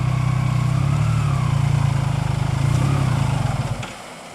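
A Can-Am Maverick X3 XRS side-by-side fitted with portal gear hubs crawls over rocks without throttle. Its engine gives a steady, close, low idling rumble that fades near the end.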